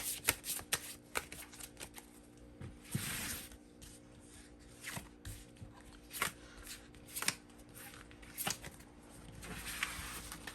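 Tarot cards are shuffled and drawn in soft, quick bursts of papery riffling and flicks, separated by quiet pauses. The sounds are close and faint, with no talking.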